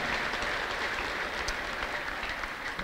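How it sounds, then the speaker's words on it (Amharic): A church congregation breaks into sustained, dense clapping mixed with high trilling ululation, a continuous crowd roar of hands and voices with no speech heard. "ለኢየሱስ ክርስቶስ እልልታ ጭብጨባ"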